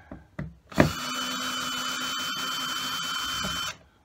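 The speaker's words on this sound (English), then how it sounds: "So we don't need the screws that's in there, so we're going to undo those." A power screwdriver or drill whirs steadily for about three seconds, undoing screws from a launch ramp adapter, preceded by a few close clicks and handling knocks, with no talking.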